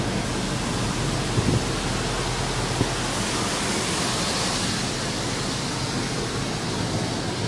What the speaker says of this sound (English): And now we're getting the Rain-X up there.